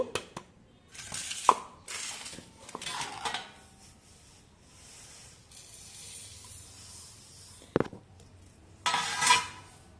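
Mustard seeds being ground to a fine powder, heard as bursts of gritty scraping and rattling with a few sharp knocks against the vessel, separated by quieter pauses.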